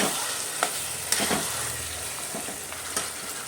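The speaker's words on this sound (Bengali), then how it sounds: "এখন লবণ হলুদ মাখা মটনটা দিয়ে দিচ্ছি মটনটাকে দিয়ে মশলার সঙ্গে ভালো করে কুচতে হবে" Mutton coated in salt and turmeric sizzles and fries with spices in a pan for a village-style curry, a steady crackle punctuated by several sharp scrapes of stirring.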